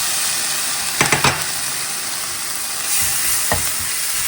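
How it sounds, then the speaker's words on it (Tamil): Curry leaves with ground ginger and garlic paste frying in hot oil, a steady close sizzle with a few stirring scrapes and brief spatters, no talking. "நல்லா வாசம் வர நீங்கள் வதங்குங்க"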